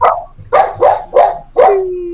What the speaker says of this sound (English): Yeah, the dog's right there.